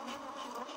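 Bees buzz steadily around a beehive super holding wet frames, a continuous close-up hum without pause or voices.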